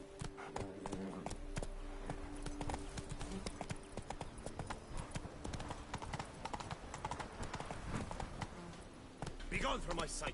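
Roach, Geralt's horse in The Witcher 3, gallops with a steady rapid clip-clop of hooves throughout, set against game music and ambient sound, with a voice speaking briefly over it.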